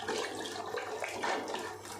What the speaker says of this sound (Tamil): அதனால் 10 டம்ளர் அளவுக்கு தண்ணி சேர்க்குறேன்